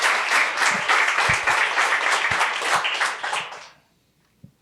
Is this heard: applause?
yes